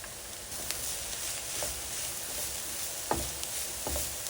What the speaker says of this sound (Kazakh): Қызып тұрған табамызға май құйып, пиязды сарғайғанша қуырып алған соң, сәбізді кішкене қуырып аламыз.